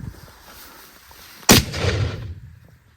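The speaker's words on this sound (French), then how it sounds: "Yes, just shoot him in the back." A single loud rifle shot rings out at a buffalo on a South African hunt, a sharp crack followed by a rolling echo that fades away, with quiet outdoor background before it.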